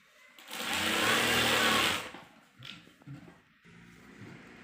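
A sewing machine stitches kurti fabric in one loud continuous whirring run of about a second and a half, followed by softer handling clicks and brief motor bursts.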